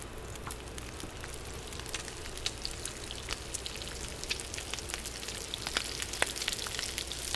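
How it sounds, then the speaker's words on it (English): Venison cooks over a campfire in the survival video game The Long Dark, giving a steady crackling sizzle with dense random pops and ticks at an even, moderate level, with no voices. "we're going to cook us some gamey venison"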